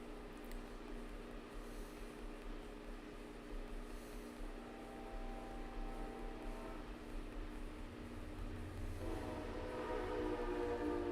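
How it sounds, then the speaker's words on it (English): A train rolls past on tracks about a block from a home, a steady low rumble with sustained tonal hum that swells louder toward the end, heard faintly from indoors. "the new place is literally like a block away from train tracks. So we may occasionally have trains"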